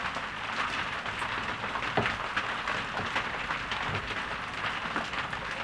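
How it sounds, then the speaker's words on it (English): Heavy rain falls outside on a wet day in the UK, a soft, continuous hiss with scattered taps, heard muffled from indoors and without any voices. "so you can probably hear that rain bashing down outside."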